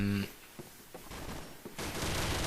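An MG42 machine gun fires in a video game, a dense sustained burst of rapid shots that grows loud and continuous toward the end, with a few scattered sharp reports earlier.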